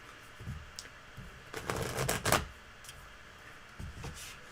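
Tarot cards being shuffled by hand, a soft papery riffle and clatter building to a louder burst in the middle, with a few quieter taps and flicks before and after; nearby and moderately faint, no talking.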